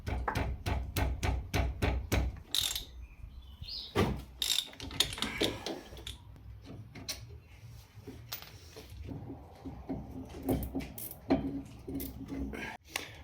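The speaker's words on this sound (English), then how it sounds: "Now take your 13 and take off the caliper brackets" A ratchet with a 13 mm socket works loose the caliper brackets on a Ford Figo, a quick run of sharp metallic clicks at first, then scattered knocks and clanks of tools and parts at close range.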